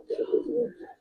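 A Giribaz coloring pigeon gives one brief, close, throaty coo that rolls for about a second and then stops.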